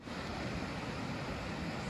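A mountain waterfall near Sauda, Norway pours in a continuous, dense roar, loud and steady throughout with no voices.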